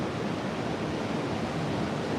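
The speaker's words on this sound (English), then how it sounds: "these waves are way bigger than what we've seen the entire time we've been here" Large ocean waves breaking on a shore make a steady, loud roar of broadband surf noise with no distinct individual crashes and no voices.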